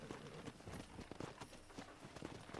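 A war horse's hooves in Red Dead Redemption, a quick steady clip-clop of a riding gait, close and continuous under a muffled game soundscape.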